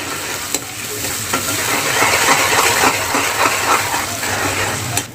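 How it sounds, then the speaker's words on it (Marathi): Chopped onion fries in hot oil for fenugreek (methi) paratha, a steady loud sizzle with soft stirring scrapes running throughout, close and with no talk. "चला तर तेलामध्ये कांदा सोडूया तेल छान गरम झालेलं आहे"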